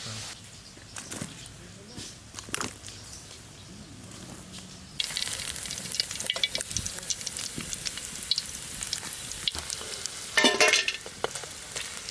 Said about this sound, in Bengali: এই কটা মাছ ভাজা হয়েছে